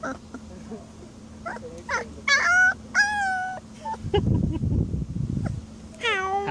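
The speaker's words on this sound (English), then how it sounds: "Howling already, right?" An Alaskan Malamute gives several high, wavering howls and yowls in short rising and falling bursts, loud and close, with a patch of rustling noise between calls.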